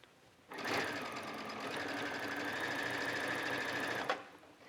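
Steady, continuous whir of a sewing machine stitching a hem on a t-shirt being made into a halter dress, starting abruptly and running close and even for about four seconds before stopping.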